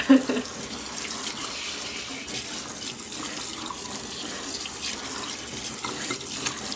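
Tap water runs steadily into a sink as a tie-dyed garment is rinsed under it, a constant close splashing hiss with faint shifts as the fabric moves through the stream.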